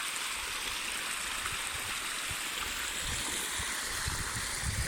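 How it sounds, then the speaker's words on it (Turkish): Water runs steadily while flowers are watered in a garden at dawn, a continuous close rushing splash with no break. "Çiçeklerde su veriyoruz."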